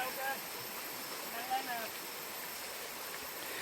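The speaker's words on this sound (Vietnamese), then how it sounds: "Dưới kia là suối, trên này là cây." Forest stream flowing at the foot of a steep jungle slope, a steady broadband wash of water that stays even and fairly faint throughout, with a few brief bird-like chirps above it.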